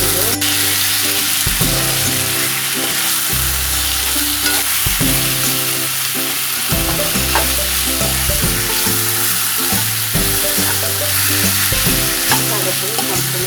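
Cumin seeds frying in hot oil, a loud, steady close-up sizzle and crackle that runs throughout with no pause.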